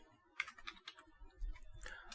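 Keys clacking on a computer keyboard while a CeWL word-list command is entered in Kali Linux, a quiet run of soft uneven taps with brief pauses and no talking.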